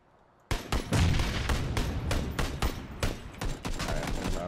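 Rapid gunfire from PUBG crackles in a dense burst of repeated shots after a quiet start, loud and sharp with a rhythmic stutter.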